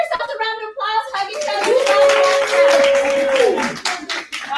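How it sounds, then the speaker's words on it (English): An audience applauds at a health and wealth talk, a short burst of clapping mixed with cheering voices and one long sustained vocal whoop, with talking just before and after. "give yourself a round of applause"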